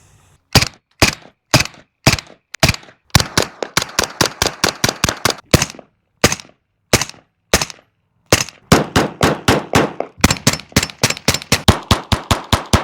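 Sharp unsuppressed gunshots from a Ruger Mark IV pistol firing full-load rounds, the muzzle removed of its Silencer Co. suppressor: single cracks spaced apart, then rapid strings of shots, loud and close with no talking.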